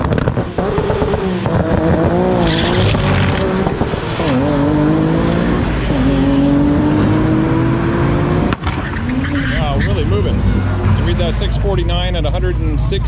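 A Lexus SC300 race car making 1100 horsepower races at the strip, its loud engine climbing through rising revs with shifts and a sharp pop, while people talk over it.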